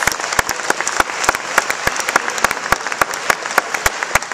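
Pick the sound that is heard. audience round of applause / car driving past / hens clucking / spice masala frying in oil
audience round of applause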